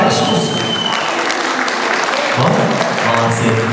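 Wedding guests at a family celebration in Taraz, Kazakhstan clap together in a dense, sustained round of applause that lasts the whole stretch, with crowd voices mixed in.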